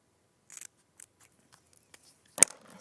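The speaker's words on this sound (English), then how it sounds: "we're just going to follow this flag shape just with my scissors." Scissors snipping along a flag shape in paper on a craft mat, several short, crisp cuts spaced out with pauses, ending in one louder snip, close and clear with no talking.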